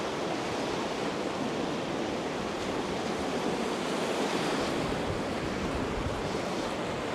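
Sea waves washing steadily onto a beach in Odesa, a continuous even roar of surf with some wind noise on the microphone, no talk.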